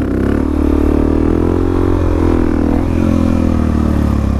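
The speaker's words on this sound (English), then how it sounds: "See, like that, that's the steady throttle that I want, not no choppy throttle." Suzuki DRZ400SM motorcycle engine held at a steady throttle while riding: a loud, continuous single-cylinder drone with an even, rumbling pulse and little change in pitch.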